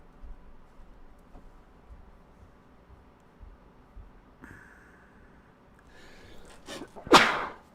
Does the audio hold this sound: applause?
no